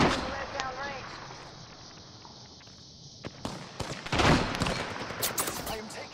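Video game gunfire from Apex Legends on PS5, with a dense burst of shots at the player followed by scattered rapid fire, loud and close, with players talking over it.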